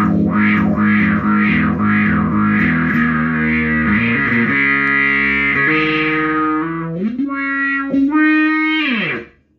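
Notes from a 1995 Ibanez ATK-300 bass guitar run through a wah effect, with a loud, distorted tone that sweeps up and down in rhythmic vowel-like swells and then sustained slides before cutting off.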